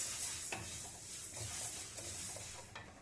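Dal frying in a pan at home for khichuri: a steady, close sizzling hiss runs throughout, broken by a few soft scraping stirs.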